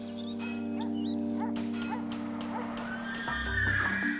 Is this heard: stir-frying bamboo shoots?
no